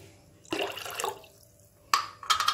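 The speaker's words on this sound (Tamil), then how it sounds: "ஒரு பாத்திரம் வச்சு அதில் 4 கிளாஸ் அளவுக்கு தண்ணி ஊற்றிக்கோங்க." Water splashes and trickles into a cooking pot in two short bursts, a steady pour followed by a brief gap and another splashy stream, about four glasses of water for cooking pongal.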